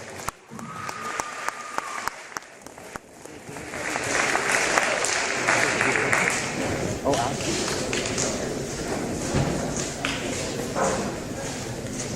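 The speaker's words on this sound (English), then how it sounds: "big round of applause for Latrell" A basketball senior night crowd in a gym breaks into sustained applause that swells after a few seconds and holds steady, with scattered cheers and voices mixed in.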